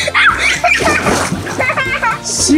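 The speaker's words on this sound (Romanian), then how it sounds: "Yee, Mircea cade" A person falls into a swimming pool with a splashy burst of water, followed by sloshing, heard under loud, excited voices including children talking.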